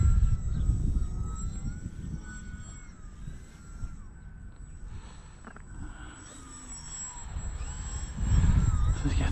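Bayer Model 32-inch Vertigo RC plane on its maiden flight, a steady electric motor whine carrying through wind rumble outdoors, rising and falling in loudness as it passes.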